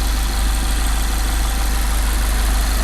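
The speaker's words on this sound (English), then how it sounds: "So here we are with the engine running" A Mazda Miata engine idles with an oil catch can installed, a steady, loud low rumble with even vibration and no voices.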